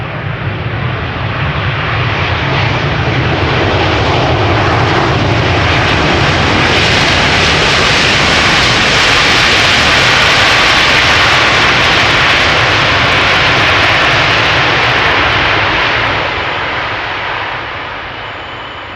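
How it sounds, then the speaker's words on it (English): A Delta Airlines jet airliner on arrival from Salt Lake City roars at Amsterdam Schiphol Airport, a loud, broad engine rumble that swells to a peak and then slowly fades, with no talking. "Delta Airlines Flight 56 arriving from Salt Lake City."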